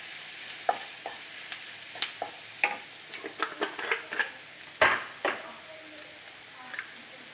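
Paneer biryani masala fries in a pan with a faint sizzle, punctuated by a quick irregular series of spoon scrapes and taps as it is stirred. No voices.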